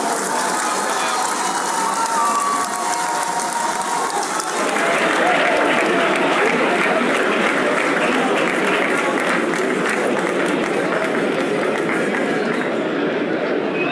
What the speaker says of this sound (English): Continue to clap, it's a long walk.